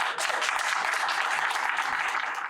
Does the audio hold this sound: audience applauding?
yes